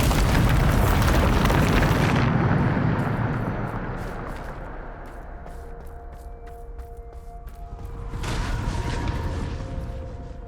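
A Bombarda spell blast in the Hogwarts Legacy video game: a loud, broad explosive boom for the first two seconds, fading into a rumbling tail with a smaller second burst near the end.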